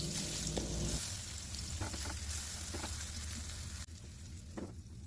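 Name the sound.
eggplant pieces frying in oil in a wok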